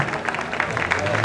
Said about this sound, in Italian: gli facciamo un applauso ad Antonio